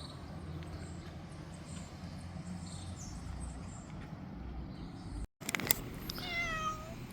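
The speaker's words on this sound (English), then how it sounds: "So the farm has many cats, and they all have a job." Farm cats on a tobacco farm meow close by, a short run of rising and falling cries near the end after several seconds of low background hum, with no talking.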